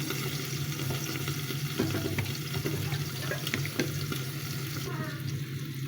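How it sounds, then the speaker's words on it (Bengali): Soybean oil hissing in a hot karai, a continuous dense sizzle at moderate level with a few faint clicks, no talking. "এখানে দিয়ে দিচ্ছি কিছুটা সয়াবিন তেল"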